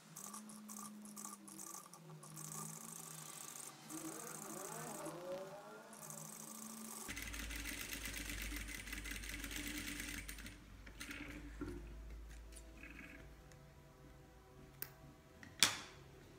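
A sewing machine stitches the first seam of a fabric kitchen oven mitt, its steady rapid motor whir running for long stretches, fairly close, with a few small clicks and knocks near the end and no talking.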